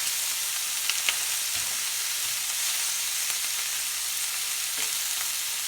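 Lobster sears in a hot pan with a steady, loud, close sizzle and a few faint clinks, with no talk.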